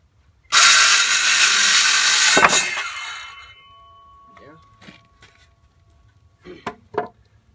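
Ryobi 18 volt cordless circular saw cutting wood outdoors, a loud, bright whining cut of about three seconds that stops abruptly and spins down, followed by quieter clunks and handling noises.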